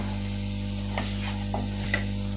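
Chicken sautéing with turmeric and salt in a pan: a steady low frying hiss runs throughout, broken by a few soft spoon scrapes and taps against the pan.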